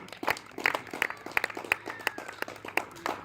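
Congregation clapping in a church service, a run of brisk, close hand claps at a fairly quick, slightly uneven rhythm with some faint voices mixed in.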